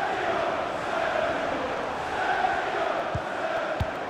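A stadium crowd in FIFA 21 during a Manchester City vs Manchester United Premier League match, a steady distant roar of fans with swelling cheers, fairly quiet and continuous with a couple of low thumps.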